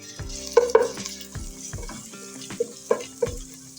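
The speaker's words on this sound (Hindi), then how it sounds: "अदरक लहसुन का जो पेस्ट है ना वो डाल रही हूँ और इसे बस चंद सेकंड के लिए फ्राई करूँगी" Ginger garlic paste sizzles quietly in hot oil while a spoon scrapes and knocks against the pan in several irregular strokes.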